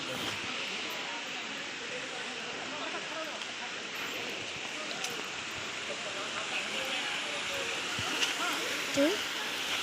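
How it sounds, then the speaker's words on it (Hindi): Water rushes steadily at Nrusinghanath temple in Bargarh district, a continuous broadband flow that holds constant and fairly loud across the whole stretch, with a few faint incidental sounds near the end. "देखंतु देखंतु केते सुंदर पानी"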